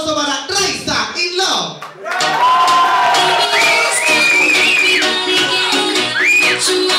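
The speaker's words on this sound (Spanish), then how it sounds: "Fuerte el aplauso para Raisa In" Studio audience on a Chilean entertainment show welcomes a guest with loud cheering, shouts and whistles, first over choppy talk and then rising into a sustained roar with shrill whistles and whoops.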